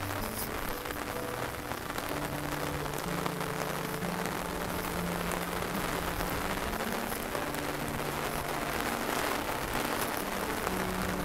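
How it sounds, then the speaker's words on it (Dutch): Heavy rain from a serious shower drenches a walk in The Hague toward the beach, a dense, constant hiss of drops hitting surfaces that continues unbroken and fairly loud throughout. "Zo, het is nou een serieuze regenbui geworden."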